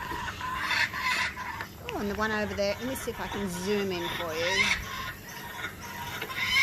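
Baby bird begs a parent for food amid other outdoor bird calls, short repeated chirps and clucks heard under a person talking nearby.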